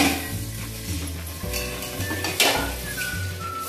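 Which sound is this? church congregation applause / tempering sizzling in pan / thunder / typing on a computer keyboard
tempering sizzling in pan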